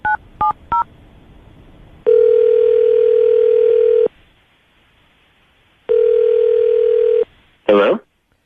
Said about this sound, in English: we're going to call him, see if we can get him on the phone